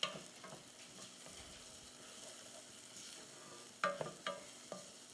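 Dry forbidden rice toasting in a hot pan with garlic and onions, a soft continuous crackle and hiss with a few sharper scraping stir strokes toward the end, close and fairly quiet.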